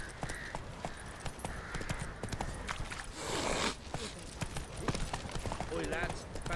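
Horse hooves clip-clop in a quick, irregular rhythm amid other sounds in The Witcher 3: Wild Hunt, with a brief whooshing burst midway.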